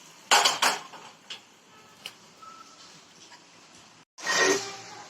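Bottle gourd dumplings stirred in a metal pan: a few sharp clinks and scrapes of a spoon against the pan, close and fairly quiet, with pauses between strokes.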